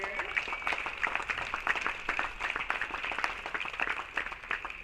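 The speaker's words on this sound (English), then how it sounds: "Let's give a round of applause for those people here." Audience applause at a tennis event, the ITA Men's and Women's All-American Championships, honoring players and coaches: dense sustained clapping from a crowd, fairly steady for several seconds, with some crowd noise mixed in.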